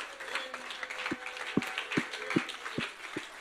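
A congregation claps in a rhythmic, evenly spaced beat, about two claps a second, at moderate distance over a murmur of voices and music.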